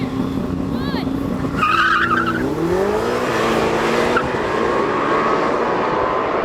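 Lamborghini Temerario and Ferrari SF90 launching side by side in a drag race, loud engine roars climbing in pitch together with brief tyre squeal, close and sustained, with people talking over it.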